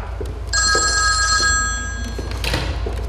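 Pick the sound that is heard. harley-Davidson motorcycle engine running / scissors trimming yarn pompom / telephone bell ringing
telephone bell ringing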